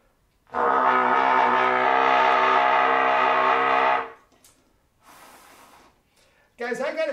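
A low brass horn sounds one long sustained note for several seconds, loud and close, followed by breathy noise and a short burst of another tone.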